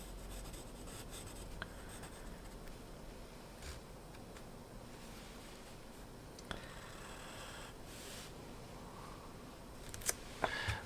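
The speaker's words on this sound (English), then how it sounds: "I'm using a 2B pencil." Graphite 2B pencil drawing on paper, a quiet, steady scratching and rubbing of the lead that runs continuously at close range, with a few louder taps and scrapes near the end.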